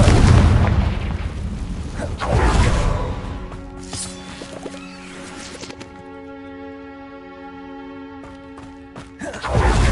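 In Hogwarts Legacy, a Confringo fire curse bursts with a loud booming blast, followed by a second rumbling impact, then a sustained ringing magical tone that fades before another burst at the end.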